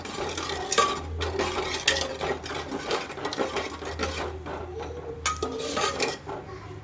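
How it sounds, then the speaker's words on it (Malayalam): Sweetened tharikanji mixture being stirred in a pot, a spoon scraping and clinking steadily against the metal in an irregular rhythm, close and fairly loud with no voices. "ഞാനൊരു മൂന്ന് സ്പൂണ് പഞ്ചസാര ചേർത്ത് കൊടുത്തിട്ടുണ്ട് കേട്ടോ നല്ലോണം മിക്സ് ചെയ്തെടുക്കുക"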